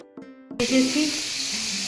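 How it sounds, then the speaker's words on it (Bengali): Eggplant slices hit hot oil in a home kitchen pan, a short tone giving way to a sudden burst of close hiss that settles into a steady sizzle. "আর এখানে রান্না করতে হচ্ছে বেগুন ভাজা"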